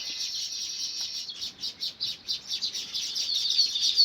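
Rapid, shrill parrot calls repeat in a steady pulsing series, fairly close and loud, with no talking.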